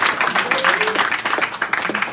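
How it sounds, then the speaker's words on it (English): A New York crowd applauds and cheers as boxer Jarrell Big Baby Miller of Brooklyn is introduced for a headlining fight, dense clapping mixed with shouting voices, loud and close throughout. "big New York round of applause, and Brooklyn, out of Brooklyn, Jarrell Big Baby Miller"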